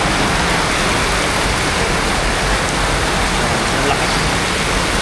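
Heavy rain pours beside a house in a dense, loud, unbroken hiss that fills the whole stretch without letting up.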